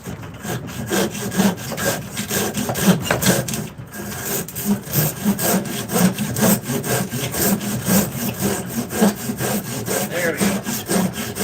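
A hand saw cuts through wood at a forge with steady, rhythmic back-and-forth rasping strokes, close and loud, and one brief pause partway through.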